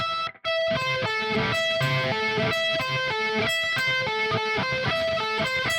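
Distorted electric guitar chords strummed in a steady, busy rhythm, ringing openly with sustained notes between strokes; close and loud, no talking.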